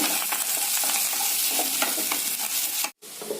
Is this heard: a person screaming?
no